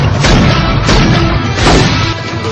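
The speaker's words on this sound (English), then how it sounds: "Here's another explosion for you movie kids." Explosion scene from the action film Last Action Hero: a loud, sustained wall of booming blasts and crashing debris with heavy low rumble, several swelling bursts across the stretch.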